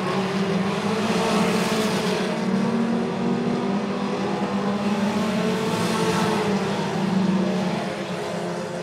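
Pony-division race cars at Tri-County Racetrack run their final lap, a continuous loud engine roar that swells and fades slightly as the pack passes, with no voices heard.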